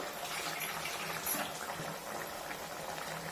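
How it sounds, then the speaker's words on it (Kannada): Water poured into a pot of dry fish curry made with ground coconut masala, a steady broadband pouring rush lasting throughout, fairly loud and close, with no voices. "ನೀರು ಹಾಕೋಣ"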